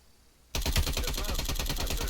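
Bursts of rapid automatic gunfire from a gun fight video game, loud and continuous after a quiet start, with dense repeated shots and no voices over them.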